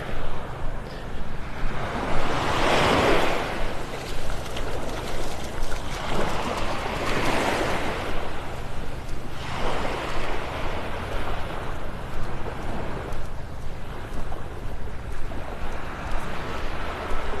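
Ocean waves roll onto Vanderbilt Beach in North Naples, Florida, with surges swelling and washing out roughly every four to five seconds over a constant windy roar, with no voices.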